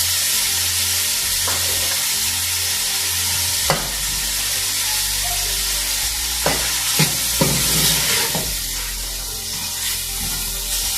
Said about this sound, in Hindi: और मसाले को अच्छी तरह से कुक कर लेंगे।